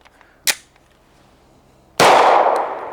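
Pistol magazine dropped during a dry-fire drill, heard as a short sharp click early on and then, about one and a half seconds later, a loud clattering impact that rings and fades slowly, close and with no talking.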